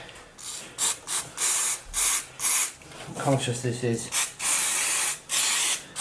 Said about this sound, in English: it's coming up already, like immediately as I'm spraying it